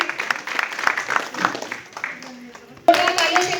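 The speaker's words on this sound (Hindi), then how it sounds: "जोरदार तालियों से स्वागत करें।" Audience applause welcoming a guest at a BJP district office women's gathering in Kathua: a dense crowd clapping for a few seconds before a voice cuts in over it, clapping continuing underneath.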